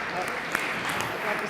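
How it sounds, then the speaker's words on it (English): Audience applause for a speaker being welcomed on stage at a tech conference: steady, dense clapping from a crowd held at an even level, with a faint voice mixed in underneath. "You can give him a round of applause if you like."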